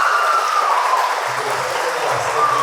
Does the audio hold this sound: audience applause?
yes